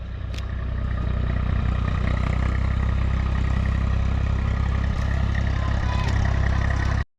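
A car engine labours steadily up an incline in gear with no throttle, a continuous low rumble with faint clatter running loud and unbroken for about seven seconds before cutting off.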